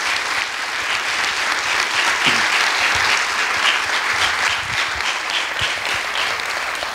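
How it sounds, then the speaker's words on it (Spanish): Audience applause at a street-level campaign event for a candidacy presentation in Villacarrillo: dense, steady clapping from a sizable crowd that holds for about seven seconds without letting up, near and even in loudness. "pido por favor un gran aplauso para él"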